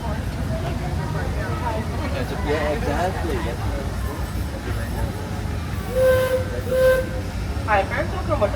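A Disneyland Railroad train rumbles steadily along the tracks around Disneyland Park with low mechanical noise, while voices talk over it and brief tonal squeals or whistles rise near the end.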